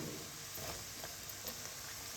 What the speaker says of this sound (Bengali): পেঁয়াজটা একটু লালচে করে ভেজে নেব।